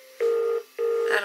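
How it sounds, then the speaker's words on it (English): Two long electronic telephone ring bursts sound in a horror setting, each a steady tone lasting about a third of a second with a short gap between them, loud and close with no speech. "Who's ringing me?"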